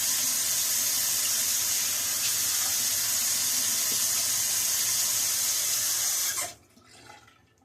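Tap water pours steadily into a bathroom sink, a close, even rushing for about six seconds before it is shut off, leaving faint dripping and quiet handling sounds.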